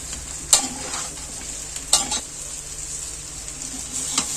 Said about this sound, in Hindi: अच्छे से इसको तेल में फ्राई करेंगे हम लोग।